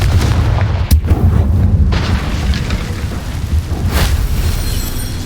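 A Confringo fire spell in Hogwarts Legacy erupts with a sharp, loud blast over a dense rumbling game soundscape, followed by a second burst a few seconds later.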